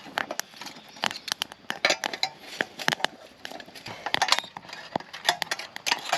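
Metal clinks and clanks of a bushcraft camp stove's lid and spiked top being handled and closed, a string of sharp, close metallic taps and rattles at irregular intervals.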